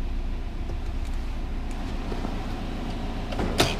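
A Subaru Impreza with an aftermarket boost gauge and top-mount intercooler idles with a low, steady engine rumble heard from inside the car, and a short sharp click comes near the end.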